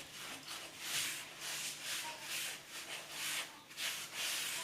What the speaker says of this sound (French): Je vais commencer à mélanger à la main.